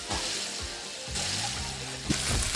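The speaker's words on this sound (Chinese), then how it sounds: "我们加入这个芽菜，" Pork belly and preserved ya cai mustard greens fry in a hot wok, a soft wash of sizzling hiss that swells in bursts with faint scrapes of stirring, moderately quiet and close.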